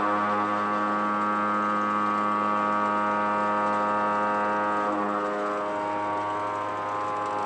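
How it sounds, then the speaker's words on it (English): A 25-horsepower milling machine runs an 80 mm shell mill with seven inserts, taking a light peripheral cut on a 3x6 inch steel block; a steady, loud, tonal hum lasts throughout, with no talk. "We're going to start with a light cut on the periphery of this 3x6 inch steel block."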